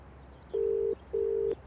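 Two steady electronic telephone tones, each about 0.4 s long with a short gap between, as a mobile phone call is dialed. The setting is quiet and no one speaks.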